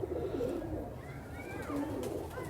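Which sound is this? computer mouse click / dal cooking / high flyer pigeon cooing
high flyer pigeon cooing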